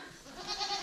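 A weaned young goat bleats once, a short wavering cry heard close and fairly loud.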